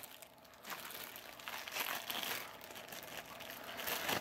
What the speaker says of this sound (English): So I'll get this all unwrapped and we will take a look here.